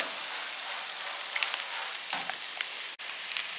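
Adai dosa batter made from chana dal frying in oil in an appam pan, a steady close hiss of sizzling with faint crackles and no voices.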